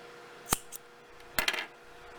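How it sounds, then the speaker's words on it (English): Metal scissors picked up and snipping crochet yarn at the end of a scarf, two or three quick, faint metallic clicks close by, with no talk. "Grab my scissors."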